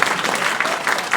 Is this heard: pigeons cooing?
no